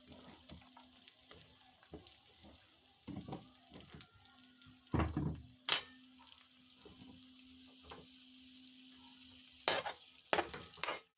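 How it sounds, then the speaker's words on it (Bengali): Potato pieces go one by one into a wok of fried tomato, each drop setting off a brief sizzling burst over a faint, quiet background sizzle with a low steady hum, the bursts spaced irregularly and growing louder toward the end. "টমেটোটা আমার ভাজা হয়ে গিয়েছে এবার একে একে আলুগুলো আমি কড়াই দিয়ে দেবো"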